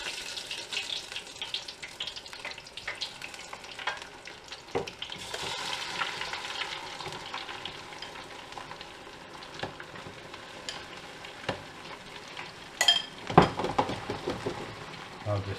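Tempura broccoli fries in oil with an ongoing soft sizzle, punctuated by occasional clinks and a louder clattering burst near the end, heard close and moderately quiet.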